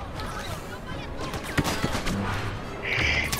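Blaster fire in the Star Wars Battlefront video game, a few scattered sharp shots amid game noise, mixed under a player's excited voice.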